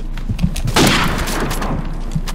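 Gunfire in the video game Call of Duty 4: a dense burst of shots swelling near the three-quarter-second mark, with scattered sharp reports before and after against steady game background noise.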